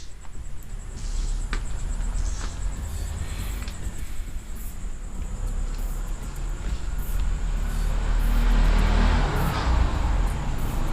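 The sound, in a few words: cars passing outside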